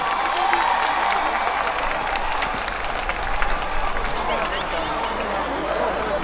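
A stage event audience applauds for a singer with sustained, dense clapping that fills the hall at a steady loudness.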